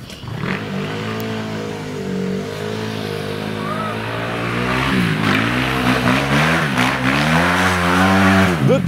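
A car's tires spin and skid on a wintry road without studs, the engine revving in rising and falling surges while a person talks over it nearby.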